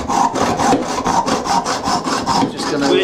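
Stove mounting bolts being trimmed down by hand, a close, loud rhythmic rasping of back-and-forth saw strokes, about a dozen even strokes in quick succession.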